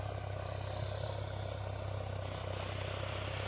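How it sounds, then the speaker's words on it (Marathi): A tractor engine drones steadily in the distance across farm fields of corn and pigeon pea, a constant low pulsing hum with no speech. "तिकडून ट्रॅक्टरचा आवाज येतोय."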